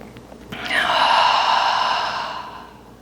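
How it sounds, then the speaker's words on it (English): A single deep breath in a yoga cool-down: a quick inhale, then a long, airy open-mouth exhale that swells and slowly fades, close and clear with no talking. "Inhale, open mouth, exhale."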